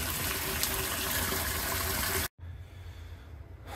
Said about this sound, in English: And this is still filling full here.